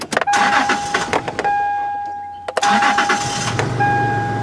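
A Toyota car engine cranks and catches twice, jump-started with a Gooloo GF01 starter through the cigarette lighter, each start followed by a steady idle with a high whine; loud and close.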